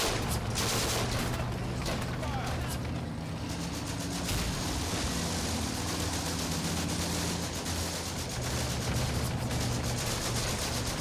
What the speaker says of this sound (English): That machine gun needs to be dealt with.